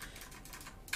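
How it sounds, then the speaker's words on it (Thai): Soft, faint key clicks from typing on a light mechanical USB keyboard with blue switches, a few quick taps ending in one sharper, louder click. "เป็นเมคานิคอลคีย์บอร์ดที่ไม่หนักเลยนะ เบา เบามาก"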